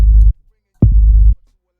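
Two short 808 bass notes with decay, sustain and release at zero, each a loud, deep booming tone that cuts off abruptly, separated by a gap of silence.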